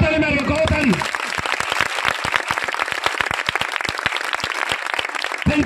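A church congregation claps hands together in a steady, rhythmic beat, sharp regular claps repeating evenly for several seconds after a voice briefly speaks at the start.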